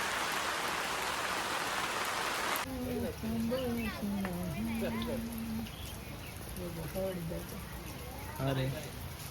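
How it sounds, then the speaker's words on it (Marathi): Steady rain falling, a dense close hiss for the first few seconds that cuts off abruptly, followed by quieter background with chirping, birdlike calls. "तिला मग पाऊस पडतो छत्री घेऊन जायचं."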